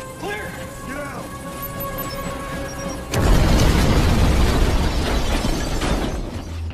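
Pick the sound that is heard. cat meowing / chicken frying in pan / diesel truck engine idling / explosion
explosion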